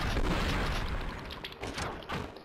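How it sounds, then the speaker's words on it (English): Continuous rumbling blasts and crackling booms from explosions in the video game Blood and Bacon, loud and dense, with a brief dip before another burst near the end. "The sound effects when explosions are garbage."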